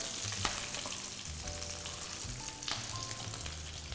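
Basil leaves sizzle and crackle in hot oil in a pan, a steady close frying hiss with a few sharper pops, no one speaking.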